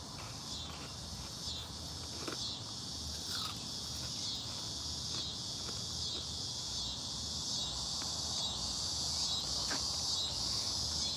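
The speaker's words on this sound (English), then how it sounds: "every 17 or 18 years they have it's like mass cicadas" A steady, shrill insect drone of cicadas fills the background, continuous and unbroken, with a few faint taps underneath.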